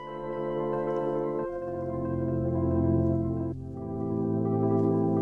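Sustained synthesizer pad with a broad, layered tone, shifting chords twice, steady and full without any voices.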